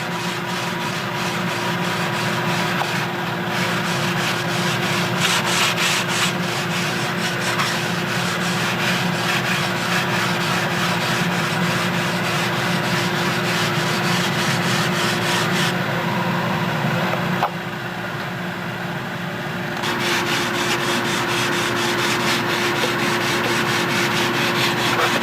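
A sanding block is rubbed over wood on a model Spitfire build, making continuous rhythmic scratchy strokes that run close and steady throughout, with a brief quieter pause near the end.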